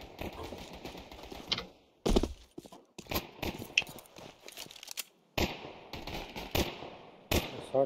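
Gunfire in Counter-Strike 2 comes as bursts of sharp, rapid shots, several short volleys separated by brief gaps, fairly close and punchy, with no one talking over them.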